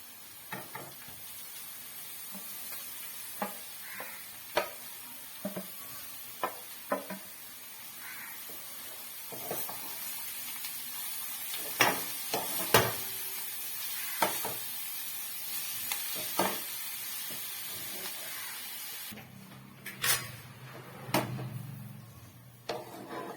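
Beetroot stirred in a hot frying pan: a soft steady sizzle runs under repeated scraping taps of a spatula, irregular and close, with a louder burst of frying near the end.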